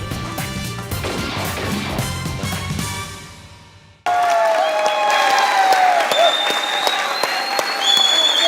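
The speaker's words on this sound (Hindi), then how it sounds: "तालियां बजाइएगा।" Studio audience applause at a Pakistani comedy talk show fills the first few seconds with steady, dense clapping that fades out, then cuts abruptly to a bright, tonal musical sting.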